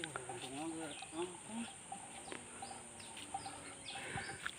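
Javan red junglefowl in the wild making short clucking calls, several brief chirping notes early on and fainter ones later, heard against a steady outdoor background with people talking quietly nearby.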